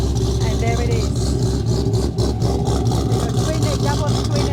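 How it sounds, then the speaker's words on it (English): A Chevrolet Corvette Grand Sport with a double twin exhaust idles at a car cruise block party, a deep, continuous rumble heard up close from behind the car, with people talking around it. "Go to the back just to hear that rumble, and there it is."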